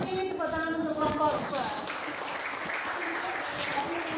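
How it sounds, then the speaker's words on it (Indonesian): A classroom audience claps for a student group after its presentation, a dense patter of clapping with voices and student chatter mixed in throughout. "Tepuk tangan untuk kelompok"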